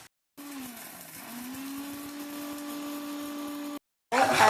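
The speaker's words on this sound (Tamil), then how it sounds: "வதங்கிட்டதுக்கப்புறம் வச்சிருக்கிறத மிக்சியில் கொஞ்சம் அரைச்சி எடுத்துக்கலாம்" A kitchen mixer grinder whirs steadily while blending sautéed onions for a Tamil mutton liver gravy. A loud, even motor hum runs for about three seconds, briefly dips in pitch, then cuts off, followed by a short burst of clatter.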